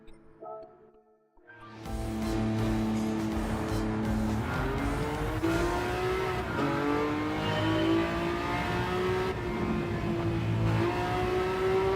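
A Ferrari Testarossa engine in a racing video game roars up loud and steady after a quiet start, its harmonic tone climbing and holding through sustained revving, with faint tire noise.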